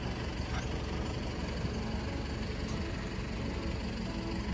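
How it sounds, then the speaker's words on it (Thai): A Hino 700 series tractor truck engine runs at idle, a steady, close, low diesel rumble that holds level throughout with no revving. "รันเครื่องยนต์ให้ฟัง"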